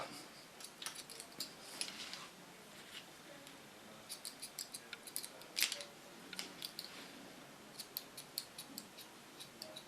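Scissors snip and thin short, curly platinum blonde hair, crisp close metallic clicks coming in quick irregular clusters against a quiet background.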